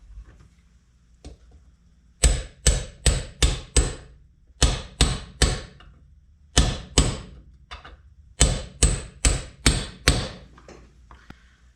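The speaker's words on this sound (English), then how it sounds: "we just put this on and use a hammer to gently tap it in." Metal hammer taps in quick bursts of four or five sharp strikes, separated by short pauses, loud and close with no talking, as a bearing is tapped into place during a Super 7 floor edger rebuild.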